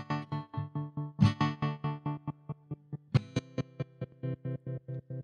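Guitar-like tone pulsing through the Cusack Tap-A-Whirl tremolo plugin, waveform 0 of 24, chopping the sound into a steady run of sharp rhythmic pulses with a louder accent partway through, heard alone.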